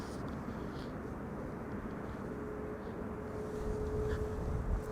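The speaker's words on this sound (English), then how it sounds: "Delta Airlines flight 90 arriving" A Delta Air Lines Airbus A330 airliner on its arrival approach gives a steady, distant jet roar that swells slightly toward the end, with no talking.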